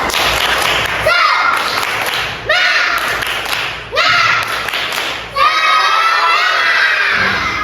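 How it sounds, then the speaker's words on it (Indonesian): A classroom group of children performs a rhythmic 'tepuk semangat' clapping cheer, loud bursts of patterned claps and thumps broken by excited shouting and chanting voices, repeating in about four surges with brief dips between them. "Tepuk semangat."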